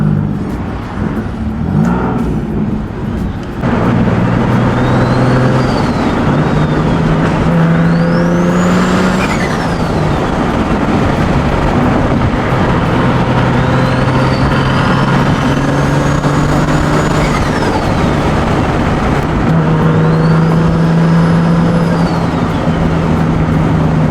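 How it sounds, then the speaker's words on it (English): A turbocharged car engine pulls hard and loud while driving with the windows down, a steady roar with whistling turbo spool rising and falling over it, close and continuous. "That turbo is loud."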